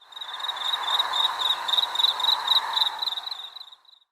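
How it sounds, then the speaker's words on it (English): Crickets chirp in a fast, steady pulsing trill, clear and fairly close, rising and falling slightly over a few seconds with no talking. "Did you say crickets?"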